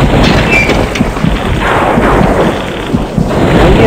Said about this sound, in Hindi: ये बारिश बंद होगी कि नहीं होगी।